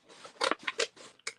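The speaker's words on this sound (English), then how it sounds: "take my scissors and cut out the piece that I want to use on this side of my" Scissors snip through a rub-on transfer sheet, giving several quick crisp cuts in an uneven rhythm, close and clear with no talking.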